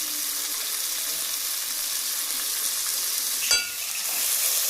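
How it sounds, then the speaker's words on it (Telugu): Drumstick leaves fry in a pan for a curry, giving a steady, even hiss of sizzling oil with a brief clatter near the end, heard close and alone. "మునగాకు కూడా వేసి ఇలా ఒక 2-3 నిమిషాలు ఈ ఆకును చాలా బాగా ఫ్రై చేసుకోవాలి"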